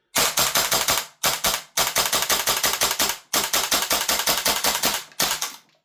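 WellPro AK12 gas blowback airsoft rifle firing semi-auto in loud, close, rapid sharp cracks, grouped into several quick strings separated by brief pauses.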